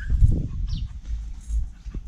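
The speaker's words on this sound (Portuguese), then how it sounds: "Aí, ó, cadelinha aí." A female dog whimpers close by in short, soft, irregular whines and snuffles over a low rumbling background.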